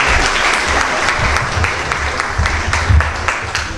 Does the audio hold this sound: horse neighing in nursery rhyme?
no